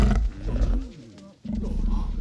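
A terror dog from the 1984 Ghostbusters film lets out a loud, deep growling roar, which cuts off briefly and then surges back, mixed with film-scene background sound.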